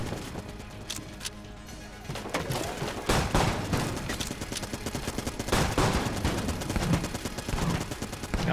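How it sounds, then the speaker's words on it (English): Rapid bursts of gunfire from the Deckard gun in the roguelike shooter Enter the Gungeon, starting sparse and then turning into a dense, continuous volley with loud repeated shots over game music. "That's the Deckard gun"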